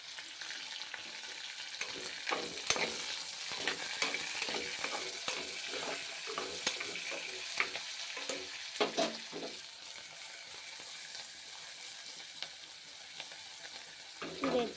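Vegetables for veg biryani fry in a pan with coriander leaves, sizzling continuously while a spoon stirs them in irregular scraping strokes. The stirring is busiest early and then eases into a steady fry, with no speech.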